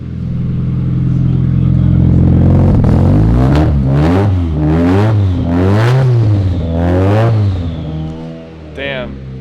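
A Honda Civic with an SR engine, rear-wheel drive and an exhaust leak, revs hard several times, pitch climbing and falling in rising, throaty surges, loud and close, with a brief hiss at the end.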